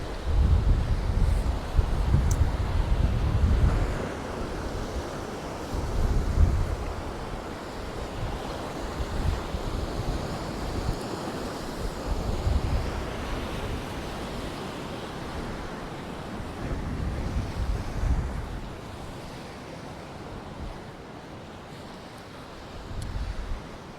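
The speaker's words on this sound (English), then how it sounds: "It's a tiny little beach here." Waves wash steadily onto a tiny beach at Camp de Mar, Mallorca, with repeated surges of surf rolling in and out alongside some wind noise and no talking.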